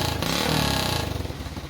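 A racing engine on a track-day kart or race car runs loud and close after cylinder head valve clearance work, with a steady throbbing tone that surges briefly and then eases into a rougher pulsing beat.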